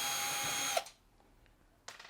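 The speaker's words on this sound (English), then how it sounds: "We'll remove the 2 screws at the top." A power drill or driver whines steadily as it backs out a screw from the top panel of a Samsung washing machine, then stops abruptly, followed by a brief quiet pause and a short second burst.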